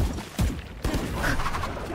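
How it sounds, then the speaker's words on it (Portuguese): Gunfire in a competitive video game: two loud, close shots within the first second, followed by dense game noise. "O cara me acertou um tiro no pé"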